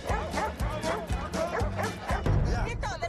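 Dogs bark at a lively outdoor street game show. Rapid, repeated barks and yips come close together, mixed with whimpers and excited voices talking throughout.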